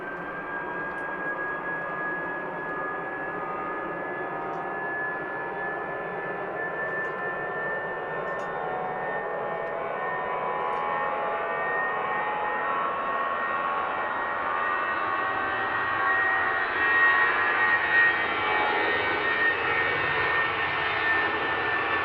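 Air New Zealand jet airliner, flight NZ532 to Auckland, taking off at Christchurch Airport: a sustained engine roar with a high whine that builds gradually, heard from a distance with no one talking.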